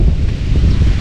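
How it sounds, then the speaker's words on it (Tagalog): Wind blows through a garden, a brief, loud, low rumbling buffet that gusts unevenly against the microphone. "Kasi dito mahangin."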